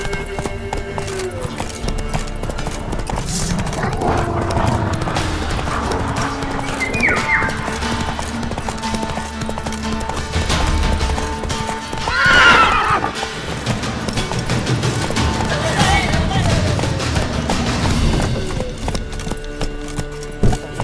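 A horse in The Witcher III: Wild Hunt gallops with steady clip-clopping hooves and lets out a loud neigh partway through, all over a busy layer of game ambience and music.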